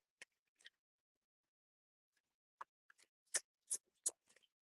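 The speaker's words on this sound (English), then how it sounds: "let's give it a good shuffle" A Rider-Waite tarot deck is shuffled by hand, giving a sparse run of quiet, crisp card snaps and riffles, isolated at first and then clustering in a brief burst of louder flicks near the end.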